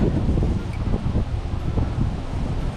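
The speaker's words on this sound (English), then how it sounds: "It is ridiculously windy today." Strong wind roars and buffets the microphone continuously beside a creek, a dense low rumble with gusty swells and no voices.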